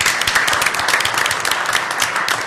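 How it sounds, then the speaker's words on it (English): A room full of people at a planning commission meeting breaks into a steady round of applause, dense overlapping claps continuing evenly throughout with no talk over them. "we give them a round of applause"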